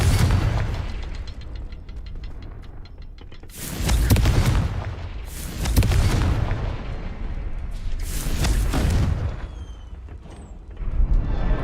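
Repeated Confringo fire-spell blasts in the Hogwarts Legacy game, three heavy, booming explosions a couple of seconds apart, each a loud burst with a rumbling tail over a low background rumble.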